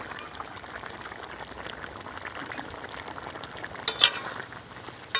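Spicy Bengali crab curry simmering in an open pot, a steady close bubbling and faint sizzle throughout, with a brief louder clatter near the end as the lid comes off.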